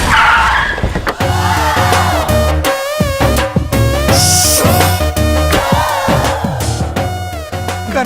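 A car pulls up in a Telugu movie scene with tires squealing and skidding, loud engine and screeching layered over dramatic background music.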